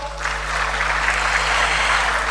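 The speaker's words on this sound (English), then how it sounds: "Please give him a big round of applause." Audience at an international currency conference in Ghana applauding as the central bank governor is invited up, soft steady clapping heard from a distance through a hall sound system with a low hum underneath.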